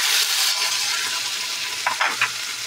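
Marinated meat pieces dropped into a hot pan for pancit, sizzling and frying steadily with a few louder crackles and stirring bursts near the end, no voices.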